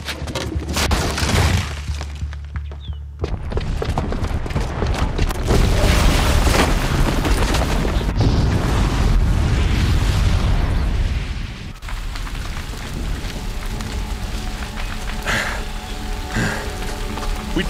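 A bomb explosion in Horizon Zero Dawn bursts into a heavy boom followed by long crackling, rain-like debris and rumbling roar that fades and returns, with no talk.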